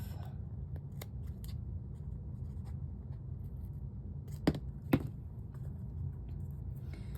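Scissors snipping paper while making a small mini bookcase, two short crisp cuts close together near the middle over a quiet low background hum.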